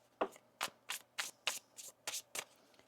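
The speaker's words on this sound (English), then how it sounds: "One more shuffle here." Tarot cards being shuffled up close, eight quick riffling bursts in a steady rhythm with brief quiet gaps between them.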